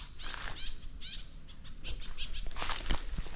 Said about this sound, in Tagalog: Ligang-liga po ang ibon oh.